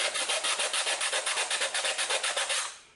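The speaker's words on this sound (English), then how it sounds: "So I use some sandpaper, first of all, just to clean it up." Sandpaper rubs back and forth over thin metal edges of a homemade alcohol burner. The close, steady rasping strokes repeat in a quick even rhythm, about seven per second, with no talking.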